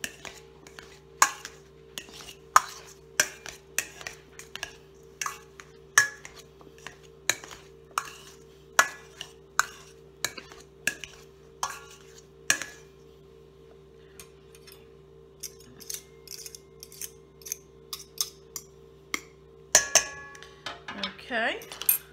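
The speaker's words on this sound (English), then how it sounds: "I'm going to go ahead and start mashing my potatoes up." A potato masher working through twice-baked potatoes, with repeated clinks and soft thuds against a dish in a steady rhythm over a low constant hum, close and without talk.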